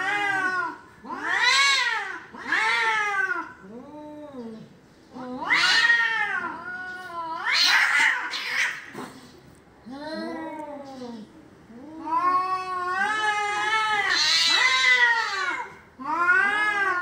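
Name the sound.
two young male cats fighting and caterwauling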